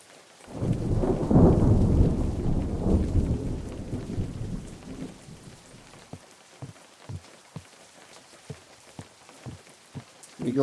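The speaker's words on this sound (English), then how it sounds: "We got storm coming" Thunderstorm in the survival game Unturned: a deep, loud rolling thunder rumble swells and slowly fades, then scattered sharp raindrop taps and cracks keep coming in an irregular pattern.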